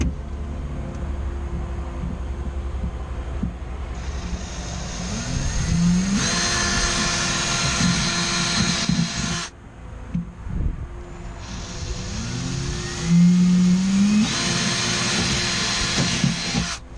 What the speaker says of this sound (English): all we gotta do is drill our holes for the back here